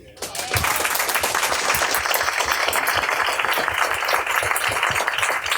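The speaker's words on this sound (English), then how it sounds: "I want a round of applause, not for us, not for our book, but for this wonderful bookstore" A bookstore audience at an author event breaks into a round of applause, starting quietly and swelling into thick, continuous clapping that holds strongly to the end.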